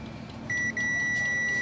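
A multimeter held on a short circuit in a Chinese TV board gives a steady high-pitched continuity beep that starts partway through, breaks briefly and then holds, over a faint low hum.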